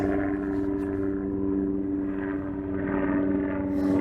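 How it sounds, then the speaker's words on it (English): A helicopter drones overhead at Llyn Dinas in Snowdonia with a steady, pulsing rotor hum, loud and continuous, swelling slightly as it passes. "We'll just let the helicopter go by."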